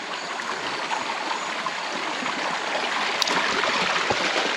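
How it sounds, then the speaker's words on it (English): A rocky stream at Lower Portals in South East Queensland, swollen a little by recent rain, rushes over stones in a steady, close, full-bodied wash of water with no voices. "there will be a bit of nice water flowing through the rocks"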